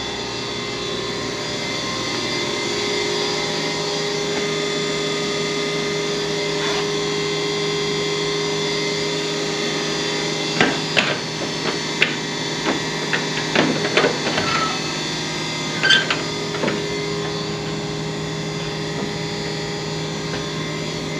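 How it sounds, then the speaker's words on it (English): An old elevator in the historic Mizpah Hotel runs with a steady mechanical hum and motor drone, with a cluster of clanks and rattles about halfway through. "Old elevator."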